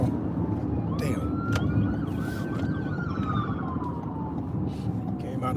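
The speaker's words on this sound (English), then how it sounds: "Ambulance." An ambulance siren wails at moderate distance, its single rising and falling tone sweeping steadily over a rumble of traffic, with voices talking faintly beneath.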